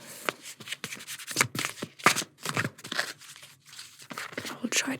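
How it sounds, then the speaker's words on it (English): Rapid, crisp shuffling of oracle cards with repeated riffling bursts and papery flutters, close and steady, without talking. "but I'm a fast shuffler"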